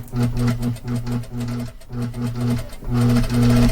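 A sewing machine stitches faux leather pants pockets in loud, close bursts of rapid rhythmic whirring, separated by brief pauses, with no one speaking.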